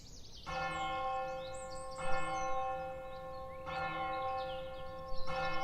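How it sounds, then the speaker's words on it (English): A church bell tolling at noon, two slow ringing strikes with long sustained, shimmering decay, fairly distant and quiet, with no talk. "As the bell rang again"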